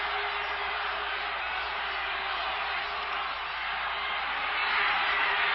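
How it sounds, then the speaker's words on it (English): Crowd noise fills a football stadium at the 1975 Grey Cup between the Edmonton Eskimos and Montreal, a steady loud roar that swells near the end. "Listen to this crowd."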